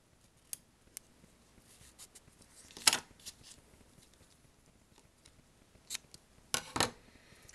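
Scissors trim short lengths of ribbon tied around a craft clipboard: a few quiet snips close by, widely spaced, with no other sound.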